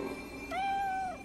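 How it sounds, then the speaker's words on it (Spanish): A talking cat in the video game Nioh gives a single drawn-out meow, clear and close, lasting about half a second after a short rustle, with no speech. "Malditos gatos que hablan."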